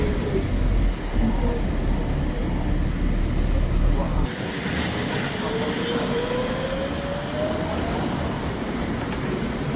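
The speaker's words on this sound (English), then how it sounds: "You can hear that old Nova Bus engine from the year 2007 behind us. Has that cool whine sound to it." A 2007 Nova Bus engine whines from inside the bus on a Montreal street, a steady rumble beneath a faint tone that climbs slowly as the bus moves.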